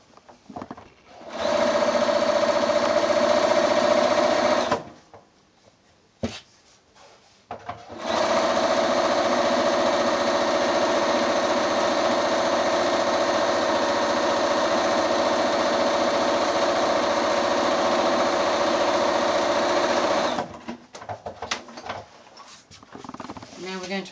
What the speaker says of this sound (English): So I'll take it to the machine and sew a quarter of an inch along here.